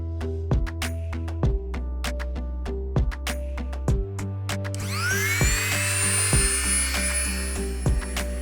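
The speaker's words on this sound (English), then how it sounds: "I drill a small hole at one end to prepare for attaching the wire." A small hole is drilled into an old angle grinder carbon brush in a series of short, sharp bursts of a high whining drill, with clicks between them and a longer sustained whine near the end, close and alone.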